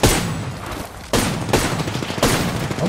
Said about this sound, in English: I'm shooting back.